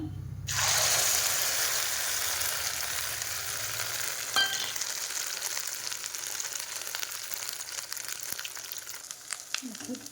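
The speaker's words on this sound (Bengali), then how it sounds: "এবার ডিমটাই তেলের মধ্যে ছেড়ে দেবো" Beaten eggs poured into hot oil for an omelette, bursting into a loud sizzle at the start that settles into a continuous close crackle with occasional scraping touches.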